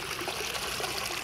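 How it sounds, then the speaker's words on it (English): Water escaping from a leaking water main at an apartment complex runs in a steady, soft, creek-like trickle with a continuous gurgling wash. "Sounds like a creek."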